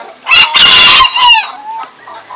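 A mother hen clucks loudly and close by in a few short bursts, with softer peeps from her chicks trailing off afterward.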